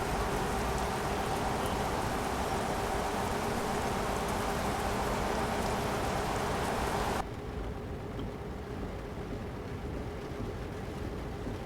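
Steady heavy rain in Euro Truck Simulator 2 patters continuously, then abruptly drops to a softer, duller rainfall for the remaining seconds.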